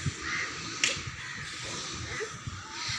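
Crows caw softly and at a distance from a perch shared with pigeons, a few short calls over low background rumble and faint shuffling, with one sharp click partway through.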